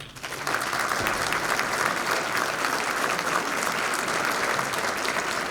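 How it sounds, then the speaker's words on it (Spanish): An audience applauding to welcome a speaker at a seminar, a steady, dense wash of clapping that swells in quickly and holds evenly throughout. "Les pido un aplauso"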